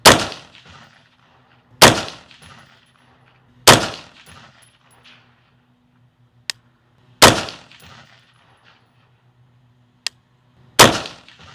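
Five loud, sharp AR-15 rifle shots ring out outdoors at a range during optic zeroing, spaced roughly two seconds apart with brief echoing decay, plus a couple of faint small clicks between them.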